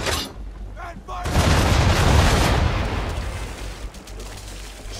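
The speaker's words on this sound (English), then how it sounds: "Now, aim all guns at her bow and do as much damage as possible." Ship cannons fire from a sailing vessel in Assassin's Creed III, a heavy rolling broadside of booms that swells and then trails off into a long rumbling wash, with some voices mixed in.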